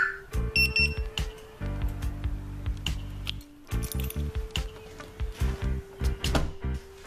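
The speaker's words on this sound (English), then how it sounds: "So if anybody were to open the doors while the alarm's still activated," A 2009 Dodge Charger's aftermarket car alarm goes off, repeating pulsed electronic tones in rapid bursts, with a longer sustained tone in the middle and brief pauses between rounds.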